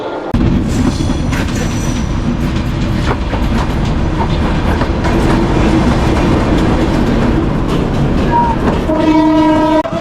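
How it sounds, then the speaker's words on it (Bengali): A passenger train arriving at Rangpur railway station, loud and close: a heavy continuous rumble of wagons with clattering wheels, and a horn sounding near the end. "দ্বিতীয় ট্রেন চলে আসছে"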